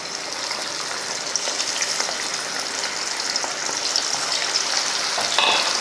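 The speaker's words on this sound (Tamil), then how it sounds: "எண்ணெயும் பார்த்தீங்கன்னா நல்லா காஞ்சிருச்சு இப்போ பொறிச்சு எடுத்துடலாம்" Marinated chicken pieces deep fry in hot oil for chicken gravy with a dense, continuous sizzling roar like heavy rain. The sound is steady, close and loud throughout, with faint pops and a slight rise near the end.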